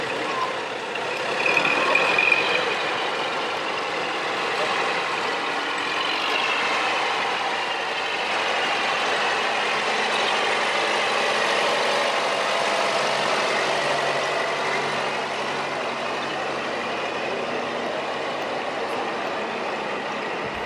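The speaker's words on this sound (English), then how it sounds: "This is a John Deere 412R John Deere sprayer, 2022." A 2022 John Deere 412R sprayer rolls past in a small-town homecoming parade, its engine a steady, moderately loud drone that swells briefly near the start and then holds even.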